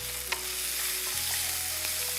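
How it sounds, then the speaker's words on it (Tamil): Green chillies are stirred in a hot cooking pan for cabbage kootu, giving a steady oil sizzle with a few light scraping clinks from the spoon. "மிக்ஸ் பண்ணுங்க நல்லா"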